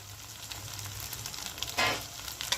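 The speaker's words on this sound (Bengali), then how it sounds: "প্রত্যেকটা মশলা আমার ভালোভাবে ভেজে নেওয়া হয়ে গেছে" Ginger garlic paste and Kashmiri red chili powder fry in a pan for a chicken dish, giving a steady soft sizzle with a brief louder burst of hissing near the end and no talking.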